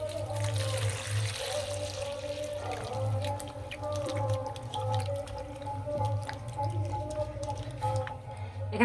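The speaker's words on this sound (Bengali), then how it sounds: "সব আমগুলো ছাড়িয়ে নিয়েছে, এবার ধুয়ে নেব।" Peeled raw green mangoes get rinsed under running water for pickle. Water flows and drips steadily throughout over a constant low hum.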